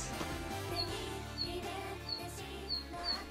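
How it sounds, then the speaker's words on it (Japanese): Birds chirp on a forested mountain trail toward Mt. Ogose in Hannō, with about five short, bright calls spaced across a few seconds over a steady, droning background. "鳥のさえずりが聞こえます。"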